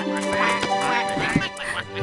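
Animated cartoon ducks quacking in a rapid, overlapping flurry of nasal calls, close and clear over light background music.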